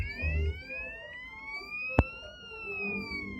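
An Arduino-driven piezo buzzer plays a siren tone that glides slowly up and then back down, clear and steady over faint background noise, broken once by a brief sharp click.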